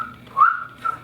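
A voice imitates a man's quirk of whistling while he eats, giving two short, breathy whistle chirps close up, about half a second apart.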